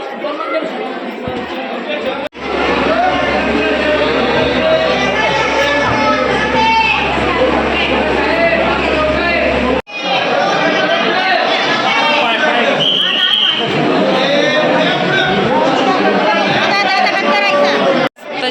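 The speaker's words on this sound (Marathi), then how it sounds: "तर रविवारी खूप गर्दी आहे" A large Sunday crowd queuing at Jejuri temple, a loud, dense babble of many voices with children's chatter, continuous and close, briefly cut off twice.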